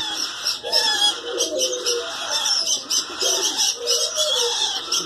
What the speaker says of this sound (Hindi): ये लोरी की ब्रीड है